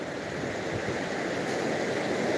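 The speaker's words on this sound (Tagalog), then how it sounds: "Galit ang mari. Lakas ang alon, ano." Strong ocean waves surge and crash on a crowded beach, a steady broadband roar that holds loud and unbroken throughout with no voices over it.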